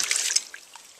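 A water ram pump pushes a surge of water that is heard as a bright splashing gush, then trickles and drips that fade over about a second, close by with no talking.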